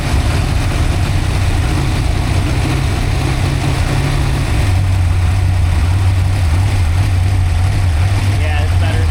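A freshly built 347 stroker V8 idles loud and close just after its first start, a steady low rumble with a slight drop in pitch partway through, voices talking over it.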